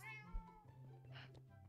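A cat in a Minecraft game gives a short meow, clear and close against a quiet low hum, followed by faint game sounds.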